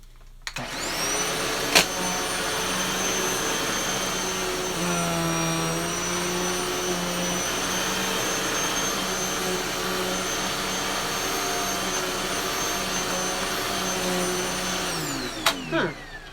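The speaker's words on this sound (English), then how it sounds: "I may actually have to take a look at that vacuum." An Electrolux vacuum cleaner runs on carpet with a loud, steady whine that holds for about fifteen seconds, its pitch dipping briefly as it works the floor before it switches off.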